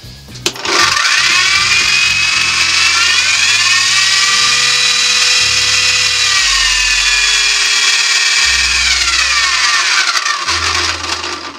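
Parkside PDB 100 A1 wood lathe driven by an old drill-type motor, spinning up into a loud high whining whir that holds steady with slight pitch shifts, then winds down as the motor stops.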